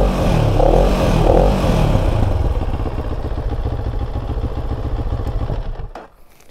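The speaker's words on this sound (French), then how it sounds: "Alors le bruit de l'échappement" CFMOTO 700CL-X motorcycle exhaust revving close by, a rough throbbing burble with a quick blip early on, settling into a steady pulsing idle before cutting off near the end.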